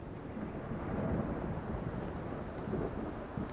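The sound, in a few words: rain and thunder in the video game Fallout London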